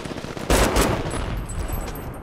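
Guns fire in the Brink video game as a rapid burst of loud shots, followed by continued scattered gunfire and battle noise.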